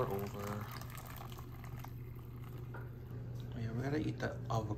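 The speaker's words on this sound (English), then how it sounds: "And Rick does the pour over" Water pours from a kettle over coffee grounds for a pour-over brew, a faint continuous trickle heard under background voices.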